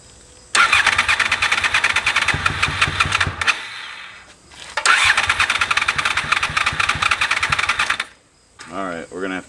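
A Honda VFR motorcycle engine cranking over: two long bursts of loud, rapid, rhythmic starter churning close by, separated by a pause, and a person speaks briefly at the end.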